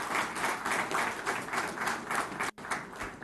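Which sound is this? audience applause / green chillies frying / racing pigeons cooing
audience applause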